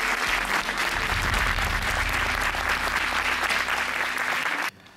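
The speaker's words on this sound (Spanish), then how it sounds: "Es un honor para Fex Santiago recibir a Tony Moore con este aplauso fuertísimo." Loud, sustained audience applause welcoming Tony Moore at a Santiago event, dense clapping from a large crowd that cuts off abruptly near the end.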